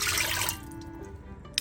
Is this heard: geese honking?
no